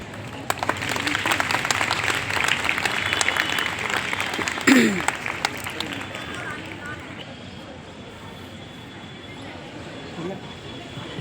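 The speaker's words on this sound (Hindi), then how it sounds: "तालियों की गड़गड़ाहट कम नहीं होनी चाहिए।" A crowd at a government girls' college annual sports day in Gohana claps in a long, dense round of applause. The clapping runs under speech and then fades out over the last few seconds.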